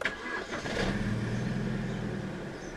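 A 2005 BMW 320i E90 starts by push-button: a short starter whir cranks into the engine catching, then a steady idle that holds evenly and close by without talk.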